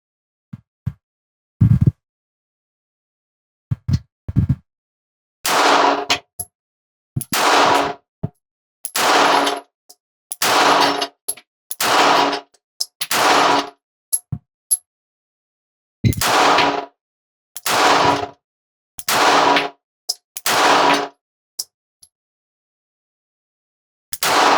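Pistol shots from a Sig P365 XL and a Springfield Hellcat at an outdoor range with steel targets, loud sharp reports spaced roughly a second or two apart in a long irregular string, with metallic rings from hits.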